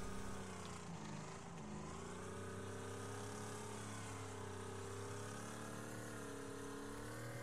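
Racing car engine in the video game Wreckfest, a dense, continuous mid-pitched drone with layered harmonics that holds steady and loud throughout, with slight wavering pitch.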